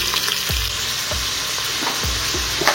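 Onions sizzle and fry in a hot Instant Pot, added to whole spices and peppercorns for chicken biryani, with a steady broadband hiss and four soft low thumps of stirring spaced through the clip.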